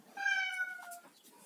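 A cat gives a single clear, drawn-out meow, close by and fairly quiet indoors, with a faint trailing sound after it.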